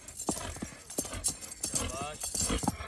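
A young horse's hooves clip-clop in a steady run of beats while someone talks excitedly over them in Hindi-Urdu.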